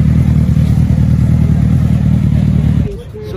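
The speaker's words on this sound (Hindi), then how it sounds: "एक्चुअली गाइस एग्जॉस्ट का नोट बहुत ही अच्छा था" A Suzuki Hayabusa's exhaust note rumbles loud and steady, a deep engine drone that holds for nearly three seconds before cutting off abruptly.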